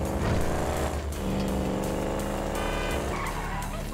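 Motorcycle engine revving with tire skid and squeal in GTA V, a continuous loud roar with sliding screeches layered over a busy game mix.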